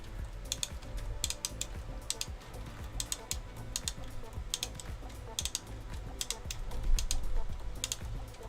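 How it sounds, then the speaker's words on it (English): A rubber piece on a LEGO loop roller coaster clicks in a quick repeating rhythm as the lift string is wound by hand, the clicks sharp and close against a quiet room. "that rubber piece causes that to click, so you can probably hear it clicking as I turn it"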